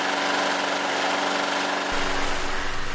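Small gasoline engine running in a loud, steady idle that deepens and rumbles more heavily partway through, with no talk over it.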